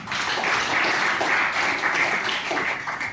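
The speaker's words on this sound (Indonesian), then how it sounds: "tepuk tangan untuk dia" Classroom applause for a student in an Indonesian teacher-training session: a steady, dense patter of many hands clapping throughout, moderately loud and close, with faint voices mixed in.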